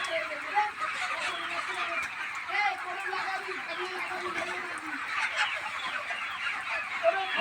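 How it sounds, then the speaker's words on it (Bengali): Chickens on a poultry farm, clucking and chattering steadily while pecking at feed, with a dense flock murmur filling the background. "মুরগির খাবার মারছে দেখুন"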